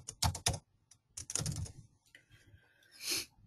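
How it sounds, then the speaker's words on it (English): Keys clatter on a computer keyboard as text is entered into a PDF text box, quick close clicks in short irregular bursts with brief pauses between them, and no talking. "we can simply start typing in our text"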